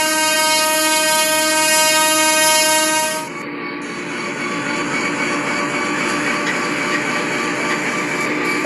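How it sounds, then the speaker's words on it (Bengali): A locomotive horn blows from inside the cab as the train pulls out of Pahartali station, a loud sustained tonal blast lasting about three seconds, then cutting off to leave the steady rumble and rattle of the train. "তো এখন একটা হর্ন দিব।"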